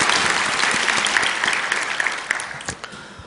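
Church congregation applauding after a hymn, a dense burst of hand claps that starts full and steadily thins out, fading over a few seconds.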